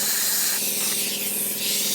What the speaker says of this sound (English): I can spray air right out that end